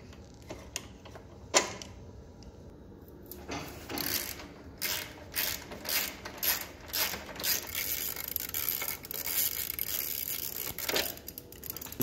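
A ratchet clicks in bursts of rapid rhythmic ticks while loosening bolts during a teardown of a Hawk, close and fairly quiet, with a sharp metallic clank early on and tool handling between strokes.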